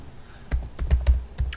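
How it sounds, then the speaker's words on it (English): Typing on a computer keyboard while entering a folder path during a software installation: a quick burst of crisp, close key clicks after half a second of near silence, uneven in rhythm and fairly loud. "Now you need to type the folder location."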